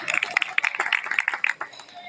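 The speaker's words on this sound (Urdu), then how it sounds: "تو بھائی کراچی والوں کے لیے بھی تالیاں بجا دیں" An audience at a company farmhouse picnic claps for visiting managers from Karachi, a patter of scattered hand claps with voices and chatter mixed in.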